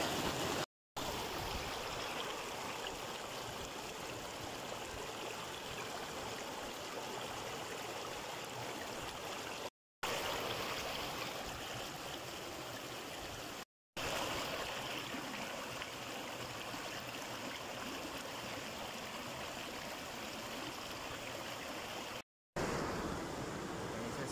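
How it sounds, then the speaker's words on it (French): A small river flows steadily in a broadband, continuous wash of water, close and even for the whole stretch, with a few brief dropouts and no voices. "Les pieds dans l'eau, tranquille. Voilà la petite rivière"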